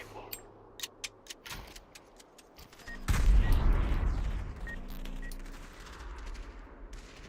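Gunfire in Population: ONE, a series of sharp distant shots ticking off in quick succession, then a louder rumbling burst of heavier fire that fades out over several seconds.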